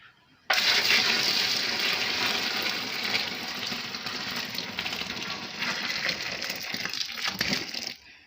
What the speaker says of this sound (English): The water is boiling now, so I'll pour it into the grounded millets and ingredients.